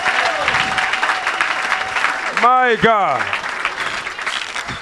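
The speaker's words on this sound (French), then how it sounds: "Est-ce qu'on peut donner encore une acclamation à Jésus?" Church congregation applauding for Jesus during a deliverance prayer service, a broad wash of clapping and crowd noise under a voice that cries out briefly in the middle.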